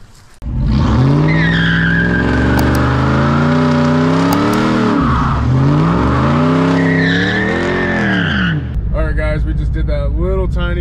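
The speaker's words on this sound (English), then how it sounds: "That little tiny burnout" A leveled Ram 1500 truck on 35x12.5 tires does a short burnout, loud sustained tire squeal over a revving engine that rises and falls in waves before cutting off, followed by a brief voice.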